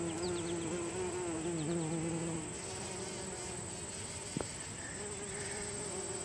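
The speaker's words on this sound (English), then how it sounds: "There's tons of bees in here." Many bees buzz around blooming partridge pea flowers in a grassland at West Hill Park and Dam, a continuous close drone with individual insects passing near and fading, over faint outdoor background.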